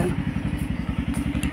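A motorbike engine runs close by with a steady, throbbing low rumble that pulses rapidly and evenly, with faint clatter above it and no talk.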